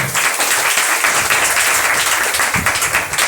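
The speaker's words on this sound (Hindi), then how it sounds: "ताली बजा के उसके नाम को महिमा करें।" A church congregation claps and applauds at a Hindi-language New Year service, dense continuous clapping close up and fairly loud throughout.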